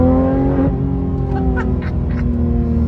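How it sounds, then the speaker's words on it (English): A supercar's exhaust barks on a downshift, a loud close engine roar with a sharp throttle blip and crackling pops that follow as the revs fall and settle. "You get a nice bark out the back."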